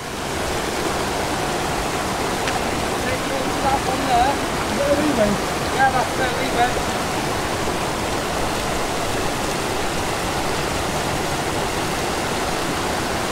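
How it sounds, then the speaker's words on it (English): Broad, steady rush of a river at a rocky crossing in the Lake District fells, loud and continuous across the whole clip, with faint voices briefly audible over the water. "We've come to the notorious river crossing"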